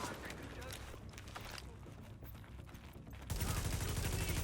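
Sustained enemy gunfire in a tactical shooter game, a dense crackle of rapid shots that swells into louder, closer bursts near the end.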